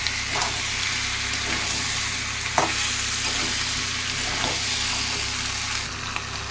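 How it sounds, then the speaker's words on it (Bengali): Potatoes for aloo dum frying and sizzling in mutton fat, a steady dense crackle with a few soft stirring scrapes, close and loud throughout with no voices. "আলুর দমটা দেখুন আমার ভালো করে কষানো হয়ে গেছে।"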